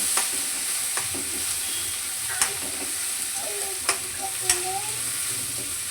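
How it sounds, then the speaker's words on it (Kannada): Onion, carrot and tomato frying in a pan for a banana stem stir-fry, a steady low sizzle with occasional sharp clicks of a spoon against the pan, close and without talk. "ಕ್ಯಾರೆಟ್ ಒಂದು 2 ನಿಮಿಷ ಫ್ರೈ ಆದ್ಮೇಲೆ ಟೊಮೊಟೊ ಹಾಕ್ಕೊಳ್ತಾ ಇದ್ದೀನಿ ನಾನು."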